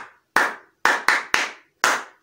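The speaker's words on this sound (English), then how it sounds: "Please give her a round of applause." A few people clapping in a classroom, five sharp bursts of hand claps in an uneven rhythm with brief silences between them, close and fairly loud.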